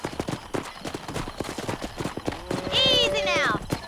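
A horse in the Western game Red Dead Redemption clip-clops in a brisk, close rhythm, then lets out a loud, shrill whinny near the end, while someone speaks over the hoofbeats.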